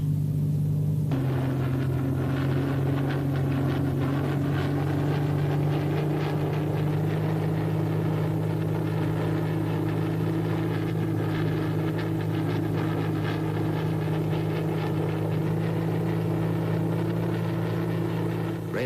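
Steady, loud engine drone of a World War II fighter plane heard from inside the cockpit, a constant low rumble with no pauses and no talking.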